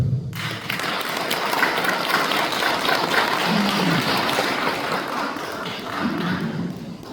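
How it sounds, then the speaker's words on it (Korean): A large audience applauds at a ceremony marking Korea's 80th Liberation Day, dense clapping holding steady throughout with a few low thuds mixed in. "박수 부탁드립니다."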